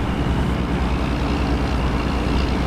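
Steady low rumble of a truck engine while driving in a video game set in Alaska, a constant drone throughout with no speech over it.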